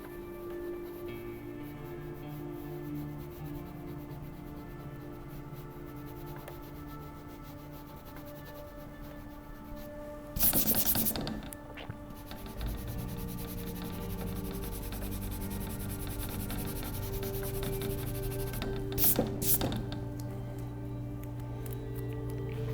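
A kneaded eraser is worked over charcoal and pastel on paper, giving soft, faint rubbing and scuffing close by, with a couple of brief, louder scraping bursts standing out from the quiet background.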